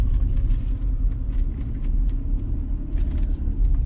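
A Toyota 86 runs around a track at a season-opener drift event, giving a loud, steady low engine rumble that stays close throughout with no break or talk.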